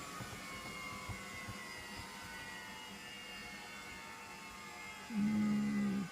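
A suction unit running a Story & Clark player piano stack, giving a steady, low motor hum and whoosh. Near the end a louder, deeper droning tone cuts in.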